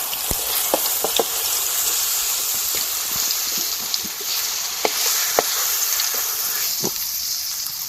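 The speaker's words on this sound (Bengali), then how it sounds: "আমগুলো ভেজে নিয়েছি, এবার তুলে নেব।" Raw mango pieces fry in hot oil in a pan, a loud, close, continuous sizzle and hiss broken by scattered small pops and stirring scrapes.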